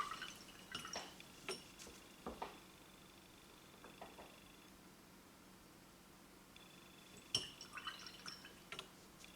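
Sparse, faint drops of water fall onto a paint palette in a quiet room during miniature painting with Baneblade Brown and Rakarth Flesh. A few isolated drips come in two small clusters, close and soft, with long pauses between them.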